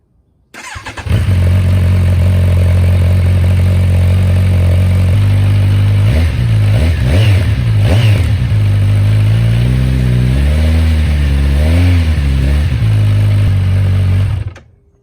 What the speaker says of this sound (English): So let's start it up and yeah, see how it sounds. Firstly with the baffle in